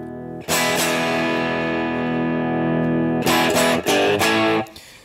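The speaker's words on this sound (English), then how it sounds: "what we're going to expose first is some of the power tube distortion" Electric guitar through a tube amplifier with a clean preamp and the power tubes pushed into distortion, playing a loud sustained chord that rings for about three seconds, then several choppy restruck chords before cutting off.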